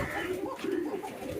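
A Kakji pigeon at home coos with soft, low, rounded calls up close, a brief murmuring burst that sounds alone.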